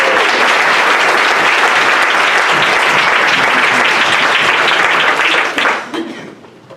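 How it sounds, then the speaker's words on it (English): Loud spontaneous applause from a conference plenary audience, a thick sustained roar of clapping that holds for several seconds, then thins and fades out near the end. "your presence just induces spontaneous applause"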